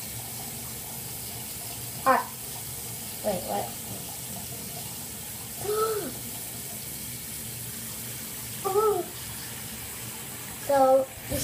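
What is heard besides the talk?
bathtub filling with water from the tap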